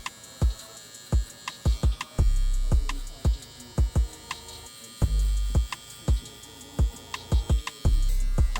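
A Stylecraft Rebel Mr. Cartoon hair clipper with a new quiet motor runs in bursts, switching on and off repeatedly with a steady close hum and sharp starts.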